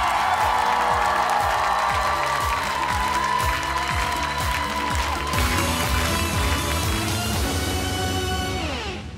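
A studio audience at a children's talent show semifinal breaks into dense, sustained applause with scattered cheers, filling the hall loudly before tapering slightly at the end.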